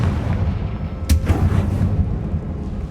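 In Hogwarts Legacy, a Confringo spell sets off a sharp, loud explosive blast that cracks suddenly and then rumbles and fades over a steady low background drone.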